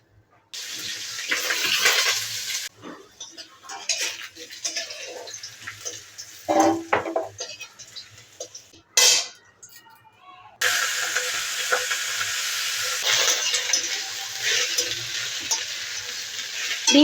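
Potato pieces frying in a pan after fish, a loud steady sizzle broken by spatula stirs and a few thumps, cutting off briefly midway before resuming strongly.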